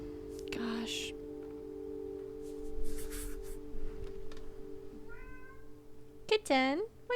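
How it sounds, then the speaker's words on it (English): A pet cat named Rory meows a few times in a quiet room, with a soft, distant cry midway and a louder, drawn-out meow near the end, while a person whispers and murmurs nearby over a steady low hum. "My cat is meowing, so if you hear that in the background"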